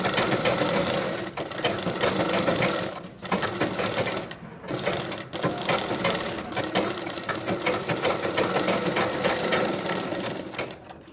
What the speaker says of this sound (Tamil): திருப்பிட்டு இப்போ நம்ம இந்த ஓரத்தில் ஒரு தையல் போடணும்